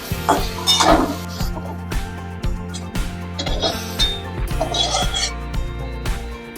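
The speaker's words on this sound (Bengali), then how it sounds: "মোটামুটি ভাজা হয়ে গেলে এই যে লবণ দিয়ে একটু নাড়াচাড়া করে নেব" Fried eggplant being stirred with salt in a hot wok, metal spatula scraping and clinking against the pan in repeated strokes over a light sizzle, close and fairly loud.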